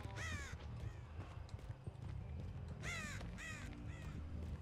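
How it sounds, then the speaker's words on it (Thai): Crows in the video game Dead by Daylight caw, a short harsh call at the start and two more after a pause, sharp and fairly near over a low ambient rumble. "อีกาลั่นตรงนี้"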